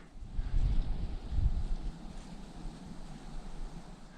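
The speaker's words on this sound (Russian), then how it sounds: "Такой непостоянный ветер явно." Gusty, frosty winter wind in low mountains around a wilderness hut, buffeting the microphone in two strong low rumbling surges and then settling to a steadier bluster.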